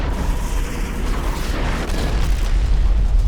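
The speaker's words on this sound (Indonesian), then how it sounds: "Mereka berniat memulai penyerangan dengan menghujaninya tembakan dari udara." Explosions from an airborne barrage against a Godzilla-like kaiju monster in an anime, a loud continuous deep rumbling boom with crackling blasts and no talk.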